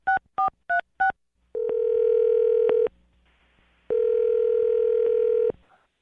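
DTMF keypad tones dial out four quick beeps, then two long steady ringback tones sound with a gap of line hiss between them, as a morning radio show calls a listener's phone.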